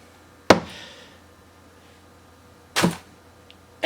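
A tall boot topples onto a hard surface, making two sharp thuds about two seconds apart, each followed by a short rattle, with quiet between them.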